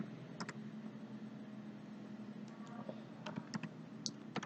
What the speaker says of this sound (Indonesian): dengan mengetik perintah